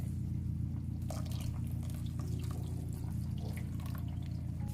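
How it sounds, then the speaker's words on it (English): Roughly two cups of water poured into strained beetroot juice make a continuous splashing trickle with small drips, steady throughout over a low background hum. "Now I'm gonna add about another 2 cups of water"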